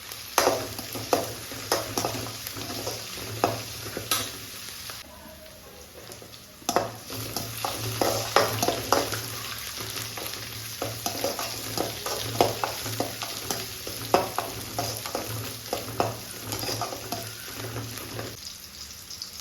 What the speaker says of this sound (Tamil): ஒரு கொத்து கருவேப்பிலை சேர்த்துக்கலாம்.